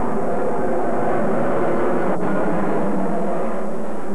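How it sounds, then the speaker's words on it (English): Airplanes at Metro Nashville Airport roar loudly and continuously overhead, a heavy broad engine rumble with no talking. "A promise to do something about the noise that all of these planes are generating."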